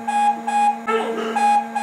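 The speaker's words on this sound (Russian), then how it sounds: "очень громко что-то ругается и пищит о том вам, что произошла ошибка" Alfawise WS-86 window-cleaning robot sounding its power-loss error alarm: a loud, steady electronic beep repeating in short on-off bursts, with a brief burst of faint speech-like noise in the middle.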